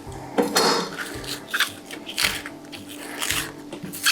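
Knife cutting the tip off an onion and peeling away its thin skin on a cutting board: a few faint, close crisp taps and crunches, with soft papery rustles in between.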